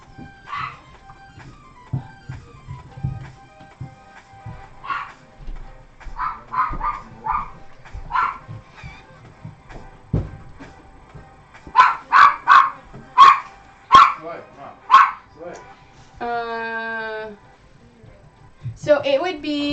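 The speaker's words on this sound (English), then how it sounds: "You can definitely hear the different kind of bark coming out of the dogs." Several dogs bark indoors in sharp bursts, starting sparse and building to a loud cluster of barks and yips, with people talking at moments in between.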